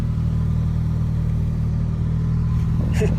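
A 1986 Toyota 1-ton pickup truck with an automatic transmission and holes in the floor, driving with a steady, loud engine drone and road rumble from inside the cab; a brief rattle near the end.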